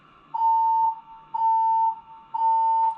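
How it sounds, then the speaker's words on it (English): A building fire alarm blares in long, steady, high-pitched beeps, three evenly spaced pulses of about half a second each with short gaps, loud and insistent with no talking over it. "But the alarm's still going off."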